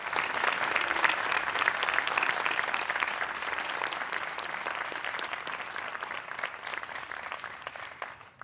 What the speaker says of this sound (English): Please, everyone, join me in giving them another round of applause.